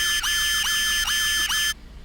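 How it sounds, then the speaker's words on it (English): A bathroom smoke detector in the video game Unheard shrieks in a loud, shrill electronic alarm, sounding four rapid repeating pulses close by before cutting off abruptly into quiet. "Fucking smoke detector in the bathroom."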